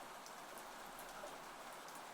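Gentle rain falls steadily outside an open window, a soft continuous hiss of drops with faint scattered patters, even and unbroken throughout with no voices.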